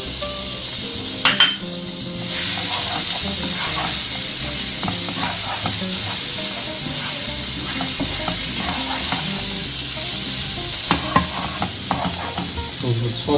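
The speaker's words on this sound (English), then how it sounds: "So first step, adding some oil, around 2 tablespoons, around a tablespoon of garlic." Garlic sizzles and fries in about two tablespoons of hot oil in a pan, a steady dense crackle throughout with occasional stirring scrapes, close and loud, no voices.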